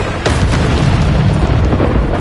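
A Bombarda blasting spell goes off in Hogwarts Legacy, a loud, dense boom with a sharp onset that rolls on as a sustained rumble for a couple of seconds, with no voice over it.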